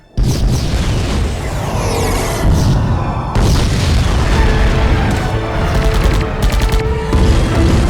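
Torpedo explosions in a sci-fi movie battle give loud, sustained rumbling booms with a sharp new blast partway through and crackling bursts near the end, dense and close.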